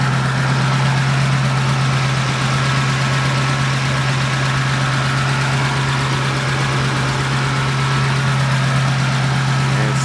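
A 1953 Mercury custom's flathead V8 idling steadily with a deep, even low rumble, close by and continuous, with no talk.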